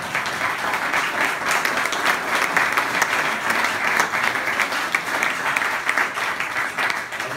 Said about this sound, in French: j'applaudirais à ce moment-ci.